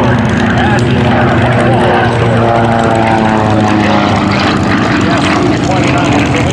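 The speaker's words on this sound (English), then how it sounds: "he dives in with that Russian aircraft" A Sukhoi Su-29 aerobatic propeller plane dives at an air show in Madras, Oregon, its loud, buzzing radial engine roaring steadily and near, with an announcer's amplified voice audible underneath.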